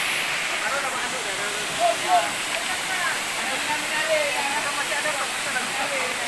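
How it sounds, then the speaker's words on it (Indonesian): A steady roaring rush of falling water from a waterfall in Bireuen, Aceh fills the air, constant and broad, with faint voices briefly audible beneath it. "Air terjun"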